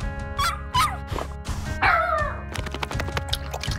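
A dog gives a few short barks and yips close by, scattered irregularly over a steady low background hum.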